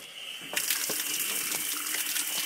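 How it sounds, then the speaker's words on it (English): Hot water gushes steadily out of a compost-heated pipe into an outdoor shower stall, a close, constant running-water hiss with no talking. "where you get hot water coming out"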